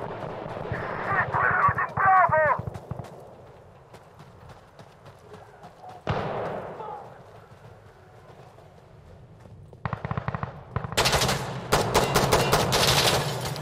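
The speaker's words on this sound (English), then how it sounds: "I'm just shooting for the sake of it" Gunfire in a video game, heard as rapid repeated shots and bursts mixed with horse hoofbeats clip-clopping and a neigh, louder rattling fire toward the end, with a voice talking at times.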